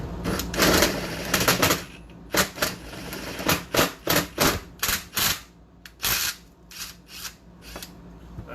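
A hammer drill runs at low speed, cutting in and out in short bursts with a rough, rattling chatter, loud and close, each burst separated by brief pauses.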